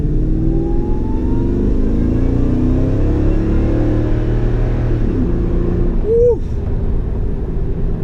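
A Toyota Tundra fitted with a BAmuffler exhaust system rumbles loud and steady at close range, a deep continuous idle drone that dips slightly near the end.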